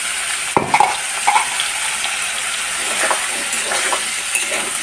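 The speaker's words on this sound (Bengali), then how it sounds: "সিম আলু বেগুনটা একটু লাল করে নিই বেরেস্তার সাথে" Beans, potato and eggplant frying with browned fried onions in a pan, a steady sizzle with a few sharp stirring scrapes and clinks, close and without talking.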